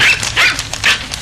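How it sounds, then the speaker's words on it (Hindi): A dog barks from a TV indoors, three sharp barks about four tenths of a second apart, fairly loud and close. "ये कुत्ते की भौंकने की आवाज कहाँ से आ रही?"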